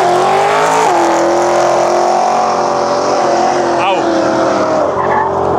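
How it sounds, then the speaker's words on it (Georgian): A drag car with an LS3 engine, tuned to around 900 horsepower, spins and heats its tires in a loud, continuous screech with a roaring engine, close up and dominating throughout, with a voice briefly audible. "კვადროში საბურავები გაახურა"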